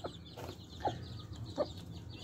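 A hen with newly hatched chicks gives a few soft, short clucks and chirps at irregular intervals, faint and close over a quiet background.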